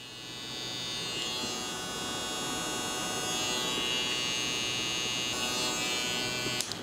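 A JRL Onyx hair trimmer running steadily, giving a loud, continuous high-pitched electric buzz with a strong motor hum that holds nearly constant for several seconds before a brief click at the end.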